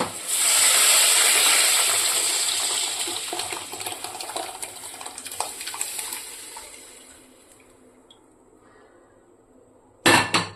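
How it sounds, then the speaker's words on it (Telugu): Tamarind broth for pappucharu pours into a hot tempering with a loud sizzling hiss that gradually fades to quiet bubbling, then a brief clatter near the end. "ఇప్పుడు పప్పుచారు పులుసు పోస్తాం."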